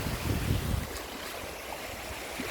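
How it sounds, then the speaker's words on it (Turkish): Sea waves wash against the shore at the far tip of Absheron National Park, a steady rushing surf with wind noise, a louder surge at first easing into a constant hiss. "Bulunduğum yerde sağdan ve soldan deniz birbirine kavuşuyor."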